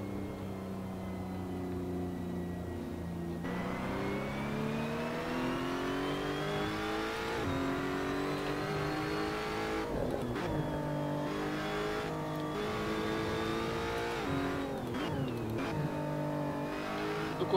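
A GT race car engine in an online racing video game drones steadily throughout, its pitch climbing and dipping with gear changes and throttle lifts, loud and continuous with no talk.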